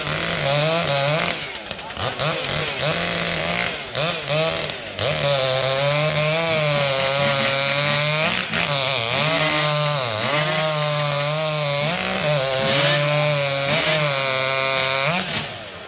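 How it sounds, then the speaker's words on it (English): A ported Stihl-style 271 chainsaw cutting wood in a racing event, loud and close, its engine screaming at high revs with pitch rising and falling as it bites through the log throughout. "That thing's a loud saw."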